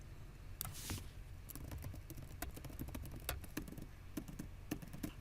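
Quiet keystrokes on a computer keyboard while entering data into a spreadsheet form, irregular clicks in short bursts against a low hum, no talk.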